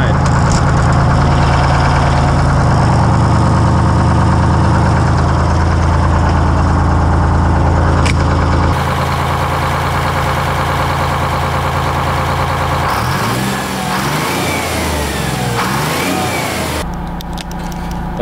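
A 1959 GM 4104 bus with its big Detroit diesel engine runs steadily up close, a loud continuous drone that holds for most of the time, then shifts into a rougher, varying note near the end.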